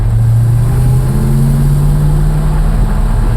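Engine of a 1956 Chevrolet Bel Air 210 while driving, a loud, continuous low drone with a steady hum and slight pitch shifts, close and uninterrupted.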